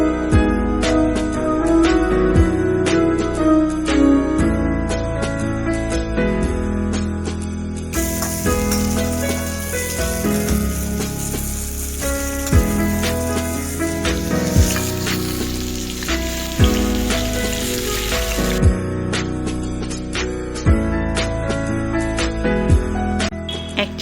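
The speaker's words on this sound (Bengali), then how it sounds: "তেলটা গরম হয়ে গেলে আমি যে আলুগুলো কেটে রেখেছি সেগুলো একটু হালকা করে ভেজে নেব" About a kilo of cut potatoes fry in hot oil in a wok, giving a loud, steady sizzle with repeated spatula scrapes and stirring clatter throughout, no voices.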